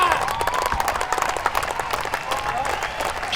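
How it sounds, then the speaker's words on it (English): Stadium crowd applauding and cheering a West Indies batsman's debut Test century against Bangladesh, with players on their feet; dense, steady clapping fills the space throughout, with a voice talking over it. "Round of applause, everybody on their feet, his teammates."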